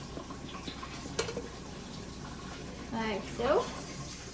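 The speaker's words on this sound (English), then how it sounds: "we're going to rinse our pasta in cool water." Pasta being rinsed under cool tap water gives a soft running splash that swells in short bursts near the end, faint beneath a person talking.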